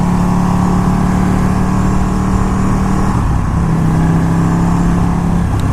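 A 200hp superbike engine while riding, a loud, constant droning roar with a steady hum that shifts slightly in pitch midway, no voices.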